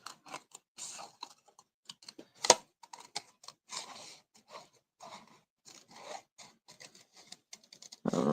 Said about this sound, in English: fussy cut around the white frame, like I did in my other one